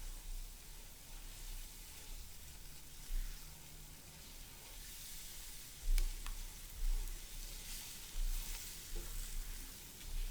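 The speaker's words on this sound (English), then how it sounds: "And you want to fry it up till they always say till it's aromatic or till the oil separates" A curry spice mix fries with onion in a pan for Indonesian soto soup, giving a soft, steady sizzle with occasional stirring scrapes and faint bumps, with no voices.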